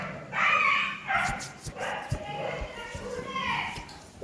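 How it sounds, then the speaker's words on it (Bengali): A dog barks and yips a few times outside, mixed with nearby talking and handling noises. "বাইরে কুত্তার আওয়াজ হচ্ছে।"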